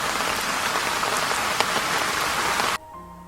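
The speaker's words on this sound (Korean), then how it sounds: "비가 옥수같이 쏟아져서 천에 물이 심하게 불어난 그날이었다" Heavy rain pours in a steady dense hiss for nearly three seconds, then cuts off abruptly into a quiet tonal background.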